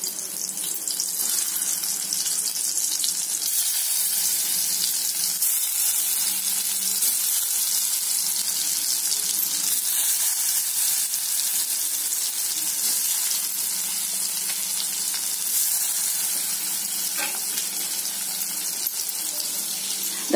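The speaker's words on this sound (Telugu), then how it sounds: "బండిలో ఆయిల్ వేసి ఆయిల్ వేడెక్కక ఇలా స్టఫింగ్ చేసిన వాటిని pan లో" Stuffed bitter gourd fries in hot oil in a pan with a steady, hissing sizzle that is close and fairly loud. It runs unbroken and no one talks.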